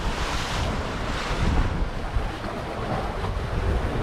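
Ocean waves surging into a sea cave on Bermuda at high tide, a dense continuous wash of rushing water and roaring surf mixed with wind buffeting, loud and close with no talk.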